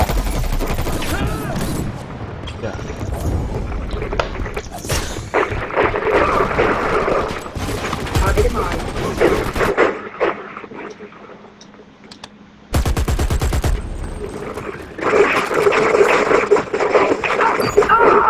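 Dense rapid turret gunfire and explosions in the shooter video game Dirty Bomb, loud and chaotic, cutting out briefly before resuming, with keyboard clatter and someone talking excitedly over it.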